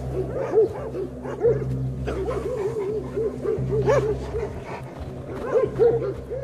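Carpathian shepherd puppies yip, bark and whimper in a steady overlapping chorus, close and fairly loud, with a low drone running underneath throughout.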